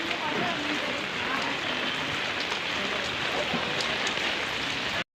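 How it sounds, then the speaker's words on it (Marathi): Rain falls heavily, a dense, steady patter close by that holds at an even loudness for about five seconds before cutting off abruptly. "पाऊस चालू झाला हो"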